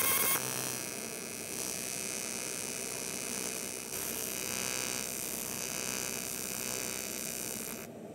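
A TIG welding arc on aluminum with contaminated tungsten gives off a steady electrical buzz and hum, faint and unbroken for several seconds before cutting off abruptly.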